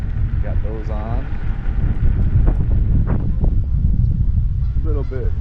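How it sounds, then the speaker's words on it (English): Wind gusting against the microphone while riding an electric unicycle around a lake, a constant loud low rumble of wind buffeting, with someone talking over it. "A little bit gust of wind."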